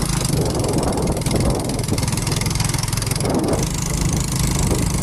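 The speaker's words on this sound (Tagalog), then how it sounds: "Ang motor po namin ay hirap na hirap na." A loud, close motorcycle engine drones continuously with a rough, labored chugging, straining on a slippery, difficult road, steady throughout with no talking.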